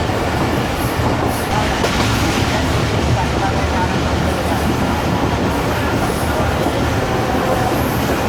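Pak Business Express train running near Malir, Karachi, a steady loud rumble of wheels and carriages throughout with continuous rail noise, close and unbroken.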